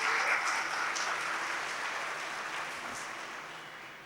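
An audience claps for a Brahma Kumaris speaker at a talk on peace, a sustained wash of applause that stays fairly loud and slowly fades over a few seconds, with no voices over it.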